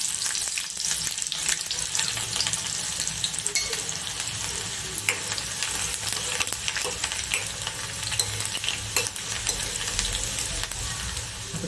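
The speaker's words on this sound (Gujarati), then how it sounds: "હવે એમાં કાંદા નાખીશું." Onions frying in a little oil in a pan, a steady close sizzle with bright crackling and occasional stirring scrapes running throughout, no voices.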